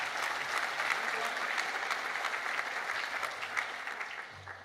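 An audience at a volunteer recognition awards ceremony claps steadily and warmly, a dense sustained round of applause that starts to fade at the very end.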